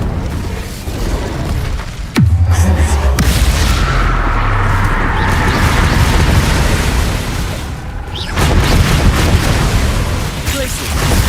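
An Incendio fire spell blast in Hogwarts Legacy, a sharp burst that opens into a long roaring, crackling rumble, then a second surge near the end, loud and close, with a voice calling out.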